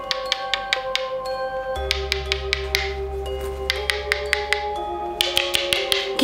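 Repeated light taps imitating knocks on a door, sounding in quick clusters of sharp clicks that grow more insistent, over a low steady hum with no talking.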